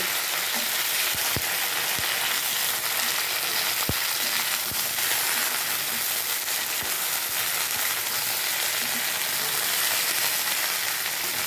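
Okra and potatoes frying together in a pan, giving a steady, dense sizzle throughout with occasional sharp pops and crackles, close and continuous with no talking.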